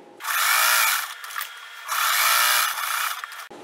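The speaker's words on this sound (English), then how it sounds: "and I'm going to sew all around" Sewing machine stitching a folded quarter-inch hem around a men's shirt being turned into a girl's skirt, two loud, close bursts of fast whirring with a quieter hum and handling noise between them.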